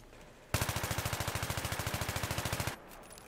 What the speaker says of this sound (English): I'm just gonna let it go full auto, and I'm not gonna control the recoil at all